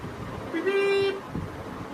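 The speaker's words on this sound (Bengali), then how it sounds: "কিছুক্ষণ পর অটো এলো এবং দাঁড়ালো, যথারীতি হর্ন বাজলো।" A single sustained auto-rickshaw horn honk lasting about half a second, heard over street noise and a murmur of voices.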